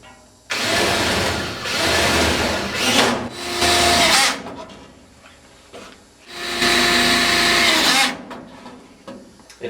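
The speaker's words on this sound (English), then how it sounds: "I'm going to go ahead and put some screws in each corner so we connect the plates to each other" A power drill driving screws into the corners of joined plates while installing a central air conditioning unit, several loud whirring bursts of a second or two each separated by short pauses, close up with no talk.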